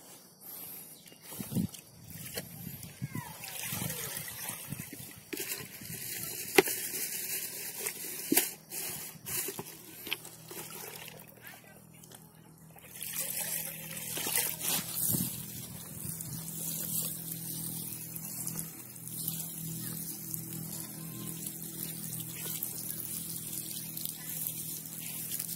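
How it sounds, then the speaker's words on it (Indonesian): Curly red chili seedlings being watered slowly by hand, soft intermittent trickling and splashing with faint shuffles and rustles, quiet and close. "Oke, kita siram teman-teman secara perlahan-lahan karena ini tidak bisa penyiramannya secara cepat karena benihnya masih baru tumbuh."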